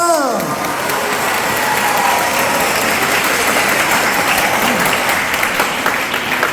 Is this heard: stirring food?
no